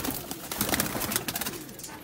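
Sialkoti pigeons coo nearby in soft, repeated throaty bursts over a brief moment, with light rustling around them.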